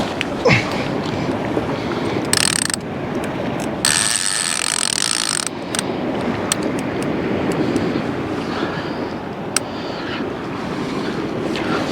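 Sea fishing rods are set from the shore in Tenerife, with the mechanical clicking of reel ratchets heard in bursts over a constant rushing surf and wind background.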